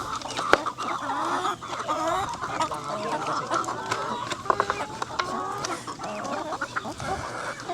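Several chickens cluck and chatter nearby while eating jackfruit in the Philippines, a busy overlapping stream of clucks and squawks with occasional soft sounds in the background.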